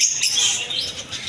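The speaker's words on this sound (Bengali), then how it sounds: "প্রথমে দেখা যাচ্ছে লাভবার্ড পাখি।" Lovebirds chatter in a bird shop with a dense run of high, overlapping chirps and tweets, fairly close and continuous, with no voices.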